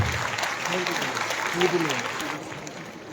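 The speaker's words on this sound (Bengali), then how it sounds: "আপনাদের প্রত্যেকের কাছে অনুরোধ রাখবো করতালি দেবার জন্য" An audience claps at a formal ceremony in the Rabindra Shatabarshiki Bhavan hall, a steady, dense patter of applause while a voice speaks over it.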